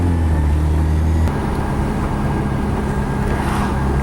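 A Mazda RX-7 FD3S rotary engine idles with a new downpipe fitted, a steady low drone with a deeper tone dropping away after about a second, then an even rumble continuing alone.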